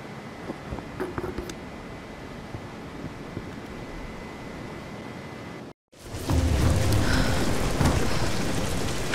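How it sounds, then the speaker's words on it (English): Steady rain and a rumbling thunderstorm in Tomb Raider (2013), a constant hiss of falling water that cuts out briefly, then returns louder and fuller with deep low rumbling. "We're getting closer to the storm."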